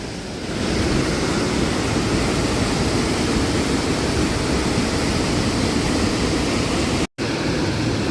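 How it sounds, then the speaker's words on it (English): A powerful waterfall roars in a loud, unbroken wash of noise, close and steady, cutting out for a split second near the end, with no voices. "We are saying goodbye to the waterfall."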